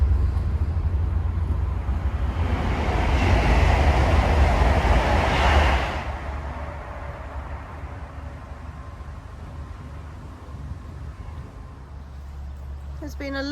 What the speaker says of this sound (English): Train going over.